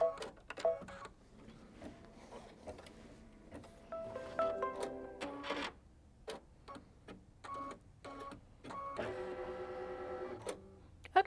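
An embroidery machine stitches the outside edge of a quilted bag with intermittent bursts of whirring and clicking, separated by short pauses. The sound is moderately close and has no talk over it.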